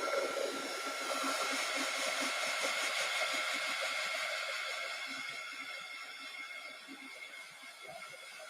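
A craft heat tool warming embossing powder on a card, a steady close whirring blower hiss that holds level and then eases slightly softer toward the end.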